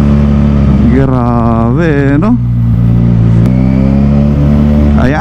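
Two-cylinder QJ Motor SRK 400 motorcycle engine revving up and down in loud, close bursts with rising and falling pitch, then settling to a steady idle, with a brief spoken exclamation over it.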